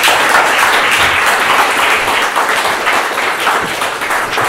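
A panel discussion audience breaks into dense, loud applause that holds steady for several seconds, many hands clapping together in an indoor hall.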